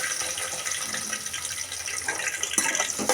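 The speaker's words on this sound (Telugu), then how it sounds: "ఇప్పుడు కట్ చేసి పెట్టుకున్న ఆనియన్స్ వేసుకుందాం." Chopped onions hit hot oil in a pan for a tomato and beans curry, producing a steady close sizzle and hiss throughout, with a few sharper crackles and a clatter near the end.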